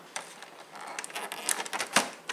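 An Epson ET-7750 EcoTank printer works through a nozzle check, giving a string of irregular mechanical clicks and clacks with short whirring bursts, close by and with no voices.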